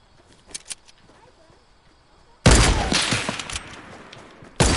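Fortnite semi-auto gunfire bursts in suddenly after a quiet stretch, a loud dense volley of shots that decays, followed by another sharp shot at the end, with faint voices earlier.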